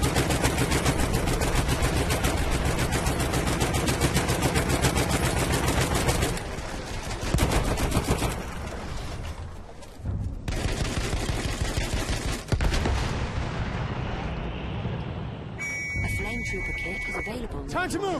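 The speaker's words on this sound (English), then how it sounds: "Spotted a machine gun!" Rapid machine gun fire in Battlefield 1 rattles in long, loud bursts, broken by brief pauses and a short beep near the end, with voices heard over the battle.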